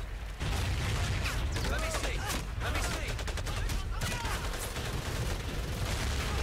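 Dense gunfire in the Pacific war shooter game Medal of Honor: Pacific Assault: loud, continuous rifle and machine-gun bursts with rapid rattling shots and booming reports, filling the whole stretch without a pause.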